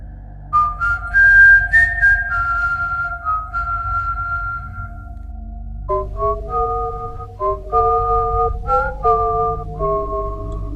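Someone whistles a slow melody nearby in an alley, sustained notes at first, then a quicker run of short, bouncing tones over a low background hum.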